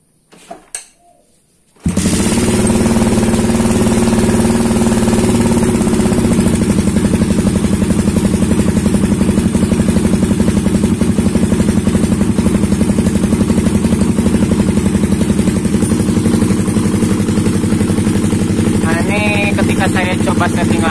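A motorcycle engine with a PWK PE carburetor idles loudly and close after a short startup sputter, a steady rough chugging with a slightly uneven idle running throughout, with no talk.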